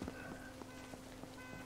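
Steady rain patters over the ground in the survival video game Unturned, a soft continuous wash with faint regular footstep-like taps beneath it and no talking.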